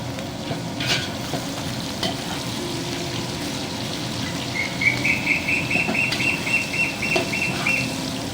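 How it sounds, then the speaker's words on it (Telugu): A pan of onions sizzles continuously with occasional stirring knocks, after curry leaves went in, and a bird's rapid chirping trill rises in the background partway through. "ఇప్పుడు ఆనియన్స్ వేసుకుంటున్నాము"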